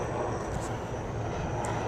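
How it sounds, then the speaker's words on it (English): A helicopter flies by at night as a steady, broadband rotor and engine roar that masks everything else and holds at a constant level, with no talking. "There's a helicopter going"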